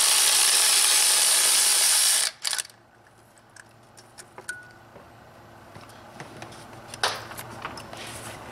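A ratchet wrench works loose 11 mm bolts on a BMW N55 engine, a loud burst of clicking that cuts off, then scattered small metallic ticks, taps and clinks of bolts and tools close by.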